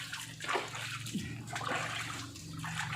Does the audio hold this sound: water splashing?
yes